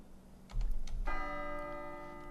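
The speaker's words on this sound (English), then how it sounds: "it works like a regular bell" A single bell rings clearly in Portal Knights creative mode, one strike with a sustained, shimmering ring that slowly fades, preceded by a few soft clicks and thumps.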